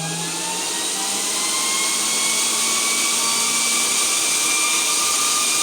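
A Vevor PCP high-pressure air compressor pump runs steadily and loudly throughout, a continuous mechanical whine with a few rising tonal whistles, no talking over it.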